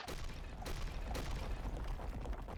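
A series of booming explosions from a tabletop role-play session as a rock wall crumbles inwards, with rumbling bursts and sharp broadband cracks continuing loudly throughout.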